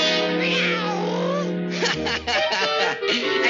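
A cartoon mouse imitates a cat's meow in a 1947 Noveltoon: a loud, drawn-out vocal meow with sliding pitch, followed by brief rustling and scuffling sounds.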